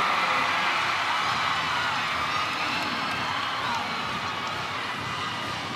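Large arena crowd at a PVL Open Conference volleyball quarterfinal, Creamline against Chery Tiggo, roars and cheers in a loud, sustained wash with whoops, fairly even throughout.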